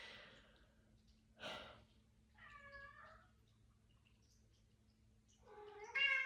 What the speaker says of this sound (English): my cat's like mad because I didn't let him out in the morning